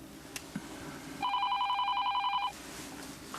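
A telephone rings indoors with a single rapid electronic trilling burst of about a second, clear and fairly close, with a quiet room around it and no talk during the ring.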